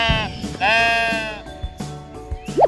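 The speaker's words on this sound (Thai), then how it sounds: "นี่คือแกะนั่นเองจ้า" A toy sheep from a children's wild-animal painting toy set gives a loud, wavering electronic bleat lasting about a second, then a couple of shorter, fainter bleats, with a brief rising squeak at the end.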